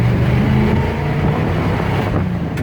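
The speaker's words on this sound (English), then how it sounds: "now it seems like the F100's running pretty darn good here" A 1969 Ford F100 pickup with a holed exhaust pulls away on the road, its engine giving a steady low rumble with rough exhaust tone and some wind buffeting, loud and close throughout, no talking.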